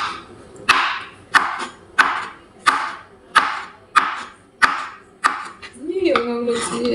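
A knife chops through onion with about eight steady, evenly spaced strikes, close and crisp, each with a short scraping tail; a voice begins just as the chopping stops.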